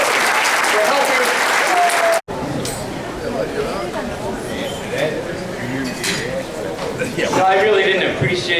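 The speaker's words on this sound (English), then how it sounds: "let's just give a round of applause for Ray Ciancaglini" A hall of fame induction banquet crowd applauds Ray Ciancaglini, with loud, sustained clapping mixed with clinking cutlery, dishes and glassware. A brief drop to silence comes early, then chatter and voices continue over the room noise.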